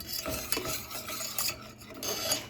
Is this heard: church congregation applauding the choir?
no